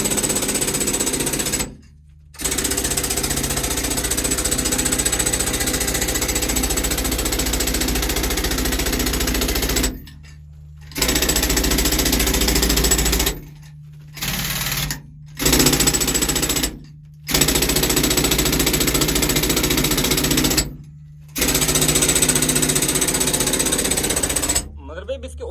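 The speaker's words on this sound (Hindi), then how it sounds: "ये जो अभी ड्रिल कर रही है और नीचे तक ड्रिल होगा" A breaker machine hammers into rock in an emerald mine, a loud, continuous pounding rattle close by that stops briefly several times before resuming.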